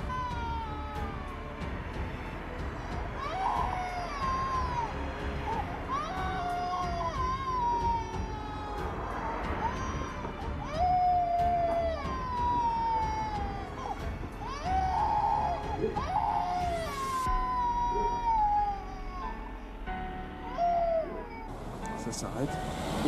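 A baby cries in repeated wailing bursts that rise and fall, steady and moderately loud over a constant background rumble, with no talking.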